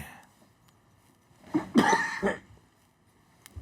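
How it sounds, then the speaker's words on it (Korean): A single short cough in an otherwise quiet room, close and moderately loud, with a faint click at the very end. "기침하시네요."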